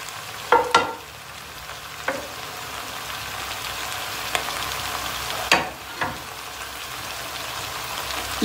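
Caramelized cauliflower sizzles in a hot pot with a steady frying hiss, broken by a few sharp clatters and scrapes as it is stirred and emptied.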